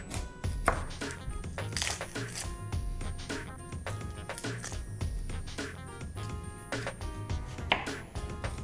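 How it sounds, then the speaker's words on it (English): Knife chopping an onion on a cutting board in a home kitchen, a quick irregular series of sharp taps and thuds, close and clear, with a brief low voice. "I've yet to discover a way to not cry while chopping onions"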